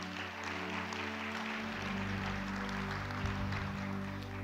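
Congregation applause during a church sermon, a steady dense wash of clapping filling the room, fairly loud and continuous, with music or a sustained tone underneath.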